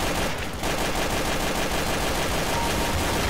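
Rapid automatic gunfire from Counter-Strike Source, a continuous dense burst of shots filling the whole stretch, loud and close with no pause and no talking over it.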